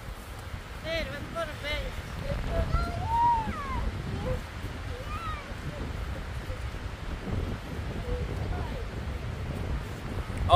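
Strong wind at Pyramid Island in Jasper buffets the microphone with low, rumbling gusts that rise and fall throughout, while people talk over it.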